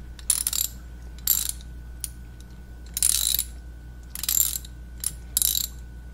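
A ratchet from an emergency car tool kit loosens a bolt in quick bursts of clicking pawl strokes, five or six short rattling runs separated by pauses, close and clear over a low steady hum.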